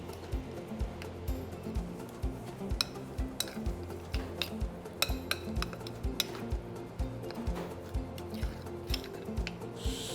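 Pistachios being mixed into a mixture for a fruit mustard lamb dish, giving repeated scraping and clinking of a utensil against a bowl in a steady stirring rhythm, close and moderately loud with no talking.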